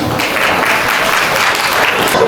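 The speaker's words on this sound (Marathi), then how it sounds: "जोरदार टाळ्या वाजवा प्लीज." Loud, steady applause from a crowd at a sangeet celebration, dense clapping filling the whole moment without a break.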